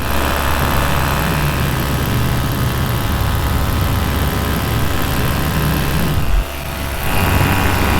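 An aircraft engine runs near Koh Larn off Pattaya, Thailand, as a loud, steady, close drone that dips briefly before resuming.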